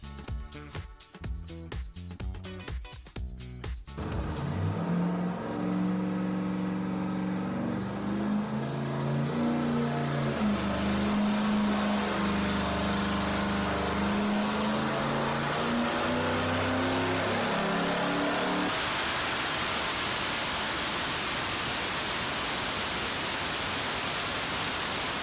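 A turbocharged LS engine on a VS Racing 7875 turbo, run hard on test, gives a loud, sustained rising drone with strong rumble that climbs steadily in pitch before cutting off near the end; choppy mechanical pulses lead in at the start.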